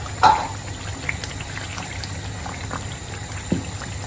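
Vegan shito sauce made with mushroom, dawadawa and onion reducing in a pot, with soft intermittent bubbling pops and a low steady simmer, close and alone.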